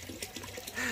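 Water trickles and splashes from a small waterfall into a koi pond, a brief steady close-up wash of flowing water.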